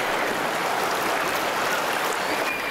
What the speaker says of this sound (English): the roar of rapids deafened my ears